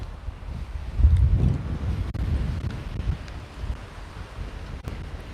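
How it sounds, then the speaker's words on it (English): Wind blows steadily across the microphone on an outdoor walk, a low rumbling buffet that swells louder around the first second and then keeps gusting unevenly throughout, with no voices. "I just hate it when it's really, really windy on these walks."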